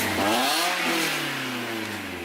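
A cold Subaru engine with a missing exhaust header bolt revs up and then settles, giving a raspy, buzzy rising and falling drone that stays loud and close throughout.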